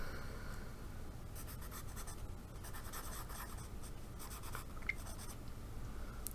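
Pencil scratching across paper in steady, close strokes, soft and continuous with brief pauses, no voices present.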